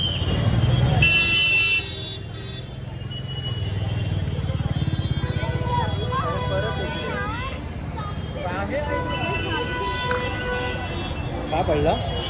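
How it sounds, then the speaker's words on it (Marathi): Heavy road traffic near the Lalbaug and Parel festival crowds fills the scene with a dense, continuous rumble. Car horns toot repeatedly over it, along with a crowd babble and nearby voices talking. "ट्रॅफिक, फुल ट्रॅफिक आहे भाई"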